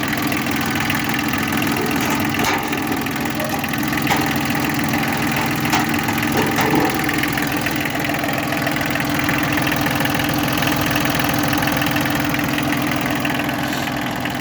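A Mitsubishi MT160 tractor with 849 engine hours, started after warming its glow plugs, idles steadily with a loud, even chug that holds without change for the whole stretch. No one talks.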